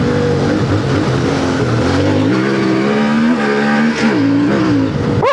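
A CFMOTO IBEX 450 motorcycle engine pulling hard in second gear through a curve, a loud, close, continuous rising drone with pitch swells as the throttle opens and eases.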